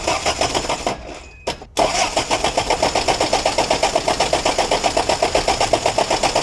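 A Toyota pickup engine cranking on clean gas fed through a fuel hose: loud, rapid rhythmic starter churning, briefly cut off after a short first attempt, then a long steady cranking run with even pulses.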